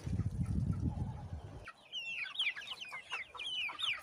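Chattering, quacking calls from Muscovy ducks, first low and dense, then higher chirpy calls overlapping in a busy stream, close by.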